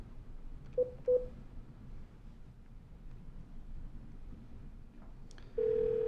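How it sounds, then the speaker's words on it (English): A few short tones from a Cisco IP Phone 8841 keypad as a number is entered during a call transfer, two quick beeps early then a longer tone near the end, over a low, quiet background hum. "I'll enter in a number that I'd like to transfer the call to"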